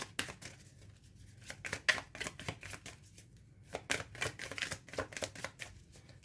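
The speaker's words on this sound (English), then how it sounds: "Shuffle one more time." Cards are shuffled with quick overhand flicks in an uneven rhythm, soft and close, with no voices.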